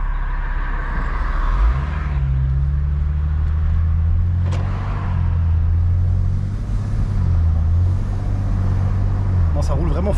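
A BMW 330d with an N57 diesel engine, tuned by Ems Motorsport, drives on the road with a steady low engine rumble and road noise throughout, a gear change audible early on.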